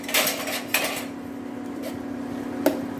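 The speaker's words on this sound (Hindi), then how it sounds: "ये सब चीज़ें डाल के हमें अच्छे से मिक्स करना है।" A spoon stirs tomato chutney with spices and coriander in a pan, giving a few sharp metallic scrapes and clinks against the cookware, close and fairly loud, with quieter scraping in between and no talking.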